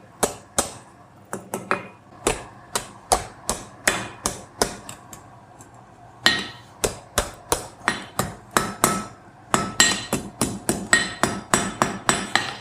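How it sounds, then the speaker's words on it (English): Hot iron being forged into a scroll on an anvil, struck by a hammer in a steady run of sharp, ringing blows, close and loud, with short pauses between bursts and no talk. "hammer it and it will scroll itself, almost"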